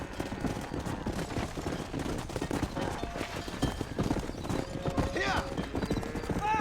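A horse gallops in the video game Red Dead Redemption, its rapid rhythmic hoofbeats pounding steadily up close, with a brief whinny and a short spoken remark.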